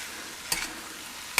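Spicy Indian-style masala pasta is stirred in a pan, giving two short scraping clatters against a soft background sizzle.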